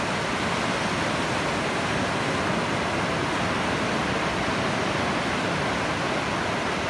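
Sea waves washing onto a beach, a continuous broadband rush of surf that holds steady and fairly loud throughout, with no voices over it.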